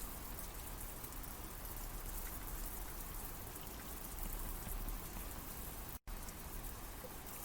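Steady rain falls in the haunted-house video game The Cursed House, a dense, even hiss of drops that continues throughout, with one very brief dropout near the end and no voices.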